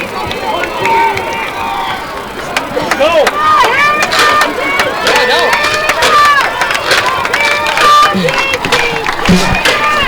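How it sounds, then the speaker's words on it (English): A Del Campo football crowd chants "here we go DC" at a Friday night high school game against Roseville, with steady, dense crowd noise under an announcer's voice. "Chance of here we go DC, here we go, coming from the DC crowd."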